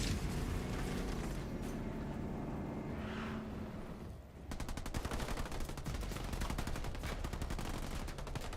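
Sniper fire in a Halo Wars 2 battle: a muffled stretch gives way to a dense run of sharp, rapid shots and impacts, loud and close, with no voices.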